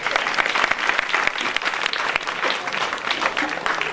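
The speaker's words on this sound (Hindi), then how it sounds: "एक बार ताली बजा कर स्टार्ट कीजिए आप कार्यक्रम को।" A crowd at a Hindi comic poetry gathering claps in a loud, continuous burst of applause, with the dense patter of many hands sustained throughout and no talking.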